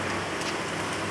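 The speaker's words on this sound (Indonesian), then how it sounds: "hujan besar." Heavy rain pouring in Ternate, North Maluku, a dense, steady roar of downpour filling the whole moment, loud and close with no break or talking.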